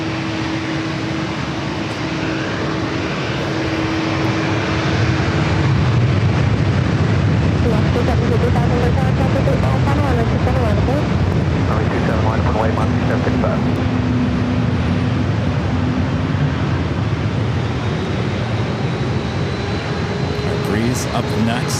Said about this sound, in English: Charlotte Flight 582. It's a 10-year-old A321.